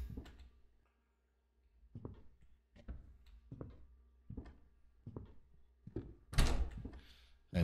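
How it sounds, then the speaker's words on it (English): Door in a horror video game being tried while locked, a series of dull thunks and rattles spaced about a second apart, ending in a louder clattering knock. "A locked door."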